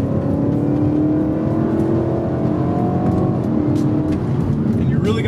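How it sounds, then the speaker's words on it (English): A BMW E92 M3 with its V8 engine runs through downshifts, the engine note sliding in pitch and flaring as the revs change, loud and steady throughout. "Listen to those downshifts."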